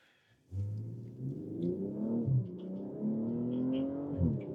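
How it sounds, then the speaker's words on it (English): A 2025 BMW M240i xDrive pulls hard under throttle, its engine note surging and climbing in pitch over about four seconds, loud and close, with no talking. "The second you hit the throttle, it just goes."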